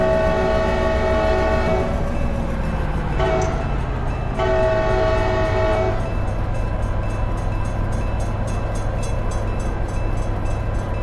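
K5LA air horn on an EMD MP15 locomotive in the Run 8 train simulator: one loud, chorded blast lasting several seconds, briefly broken and resumed, then giving way to a steady rumbling locomotive engine drone.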